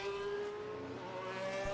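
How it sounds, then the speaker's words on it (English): Race cars lapping the Italian Grand Prix circuit in a racing video game on a wet track: a steady, high engine whine that slowly rises in pitch, continuous and fairly quiet, with no talking. "Now, there's a few cars out on track."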